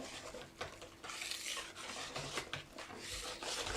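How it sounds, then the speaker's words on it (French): A spoon works through semolina chocolate cake batter in a bowl, giving a soft, continuous scraping and rubbing that is faint and close, with no talking. "On mélange comme ceci jusqu'à obtenir un mélange bien homogène."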